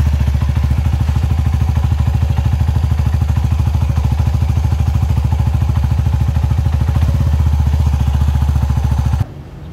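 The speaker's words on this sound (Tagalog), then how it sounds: "paanda rin yung makina saglit." A motorcycle engine runs while coolant is being flushed, a loud, close, steady rapid putter of firing pulses that lasts several seconds and then cuts off abruptly near the end.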